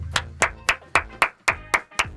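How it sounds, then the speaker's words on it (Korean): Eight sharp, evenly spaced hand claps ring out alone at a steady, deliberate pace, close and loud, each one a crisp smack with a short decay. "박수!"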